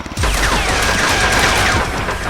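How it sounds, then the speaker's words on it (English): Rapid gunfire in a video game: dense, continuous bursts of shots rattle loudly throughout, with no voices over them. "They're shooting at us."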